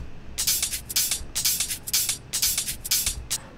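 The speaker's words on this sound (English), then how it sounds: "All these hats together sound like this." Busy layered hi-hat loops tick and hiss in a steady, syncopated groove, bright and crisp, with short open-hat swells between tight closed hits. No voices.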